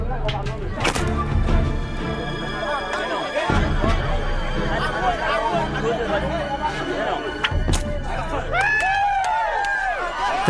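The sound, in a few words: crowd roaring at a stick-fighting match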